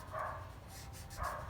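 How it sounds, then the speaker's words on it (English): A pair of faint barks from the neighbours' dogs, spaced about a second apart and heard at a distance, muffled and low in level. "The neighbors has a guy over there and the dogs are freaking out."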